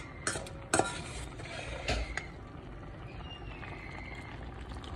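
A spice mix being stirred into a frying shami kabab mixture of beef in a pan, with faint scraping and clinking of a spoon against the pot, a few sharper knocks early on, and a low sizzle underneath.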